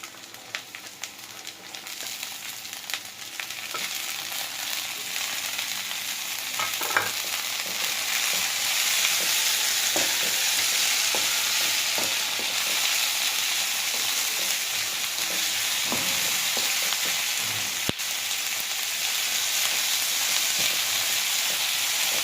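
Vegetables fry with ginger and garlic in a pan for vegetable kichdi, giving a constant close sizzle with scattered scrapes and stirring knocks throughout.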